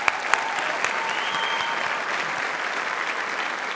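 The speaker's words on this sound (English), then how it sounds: "let's give a big round of applause to Dr. Wilson" Sustained applause from a graduation ceremony audience at a graduate school of management hooding: a dense, even crowd of hands clapping from start to finish, moderately loud and without talk over it.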